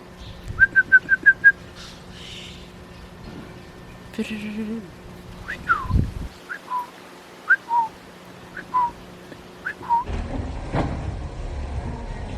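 Several birds sing and whistle nearby: a quick run of clear repeated notes, then scattered chirps and calls, with a low steady hum underneath.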